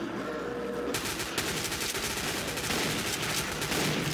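Rapid sustained gunfire in the video game Codename Cure, a dense stream of loud shots firing continuously after a brief quieter start, with no talk over it.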